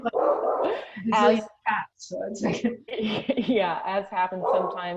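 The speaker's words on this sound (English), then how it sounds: "Sorry, my dog is barking in the background." A pet dog barks in the background of a remote technical discussion, faint yaps under continuous close speech from someone talking.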